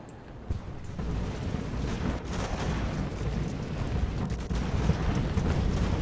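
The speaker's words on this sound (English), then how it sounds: "Drake got lit up by the artillery" Artillery fire in Ultimate Admiral: Age of Sail, a naval-era battle game, sounds as a continuous dense rumble of distant cannon blasts blending into a heavy roar that swells slightly.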